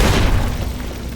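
Missile blast from an M235 missile launcher mounted on a Securitron robot in the Fallout: New Vegas game, a single loud, heavy boom with a rumbling low-end tail that stays dense and sustained throughout.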